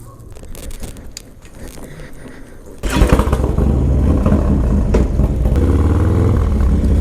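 A Harley-Davidson Dyna Low Rider S sounds quieter and rougher at first with some clatter. Then it pulls away into a loud, sustained engine roar while riding.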